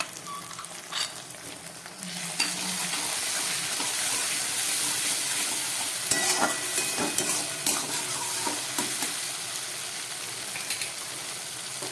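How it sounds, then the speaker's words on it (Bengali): A ground spice paste hits onion and tomato already fried in oil for a catla fish and brinjal curry: a close, continuous sizzle with stirring scrapes and spatters, and no talk. "এবার আমি এই বেটে রাখা মশলাটা দিয়ে দিচ্ছি"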